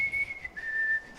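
A single steady whistled tone from an audience at a church service, sustained and faintly wavering, fairly close, with no talking.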